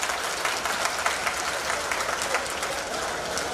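A crowd claps loudly and continuously at the opening of a Diwali fair in Lucknow, a dense, sustained roar of hands at a steady level throughout.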